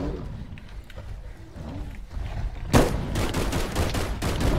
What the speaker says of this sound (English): Shoot it, Skippy!